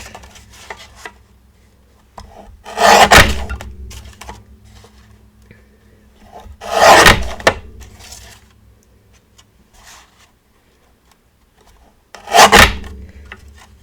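Craft paper being trimmed, three separate loud rasping slides spaced a few seconds apart, each a short scraping stroke with quiet gaps between.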